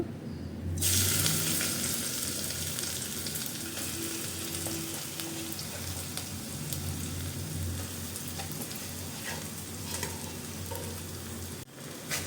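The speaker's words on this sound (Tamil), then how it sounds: "இப்போ நெய்யிலே நல்லா வதக்கி விட்டுடலாம்" Grated pumpkin frying in ghee for pumpkin halwa gives a steady, close sizzle throughout, with occasional stirring scrapes and a brief pause near the end; no one speaks.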